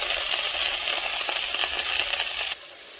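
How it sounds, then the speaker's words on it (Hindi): Small chicken pieces fry in a pan with a loud, dense, crackling sizzle that holds steady and then drops suddenly to a quieter hiss near the end. "ये डाल देते हैं। इसको फ्राई करते हैं।"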